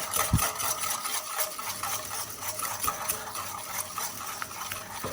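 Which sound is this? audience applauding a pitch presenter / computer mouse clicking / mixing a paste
mixing a paste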